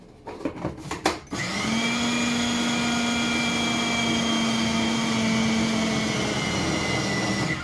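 A few rattling knocks give way to a food processor's steady, high-pitched motor whir, mixing vegan pastry dough with applesauce, that churns on evenly and loudly.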